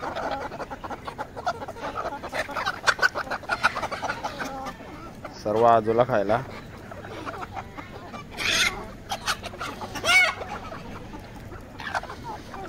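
Chickens cluck and squawk busily at feeding time as guinea fowl arrive, with loud honking calls rising midway, while a person speaks briefly over the noisy poultry yard.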